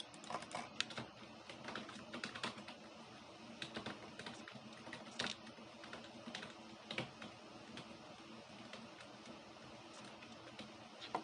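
Typing on a computer keyboard, a steady close stream of light clicky keystrokes with occasional louder taps, no voices.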